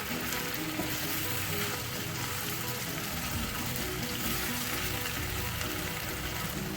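Fried onions mixed into a sizzling spicy achari chicken masala in the pan, with a continuous loud frying hiss, crackle and stirring scrapes close up, no voices.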